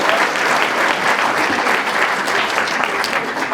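A live audience breaks into sustained applause, a dense, steady wash of many hands clapping at even loudness throughout, with no voices standing out.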